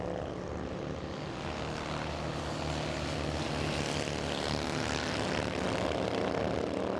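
An Indian motorcycle at a historic race at Broadford Motorcycle Complex roars past with a steady, loud engine drone that builds slightly as it nears, with no clear break for the gear change.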